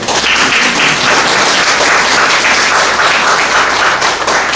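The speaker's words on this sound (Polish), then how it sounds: "tu się brawa należy" Loud, dense audience applause at a book author meeting in a town information center, sustained evenly for several seconds with no speech over it.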